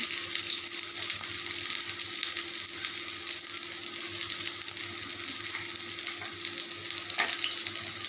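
Chopped garlic frying in hot mustard oil for a Lote fish fry, a steady bright sizzle that crackles evenly throughout with no talk over it.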